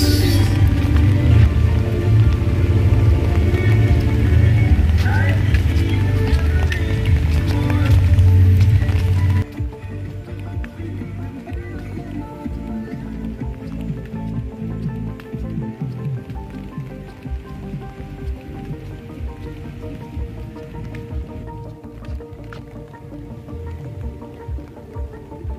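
Rain falls steadily over Luneta Park, a dense continuous patter that is loud and close at first, then drops abruptly to a softer, more distant hiss with scattered drips for the remainder.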